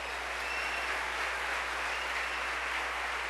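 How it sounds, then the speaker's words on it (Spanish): A church congregation claps loudly for the Lord, dense continuous applause that fills the whole space at an even level throughout. "Démosle un aplauso fuerte al Señor."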